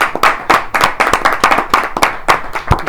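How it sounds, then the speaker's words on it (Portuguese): A church congregation claps to welcome two speakers, a short burst of loud, uneven hand claps close by with scattered individual slaps and no talking. "vamos receber o nosso irmão Papá, o nosso irmão Charles com uma salva de palmas"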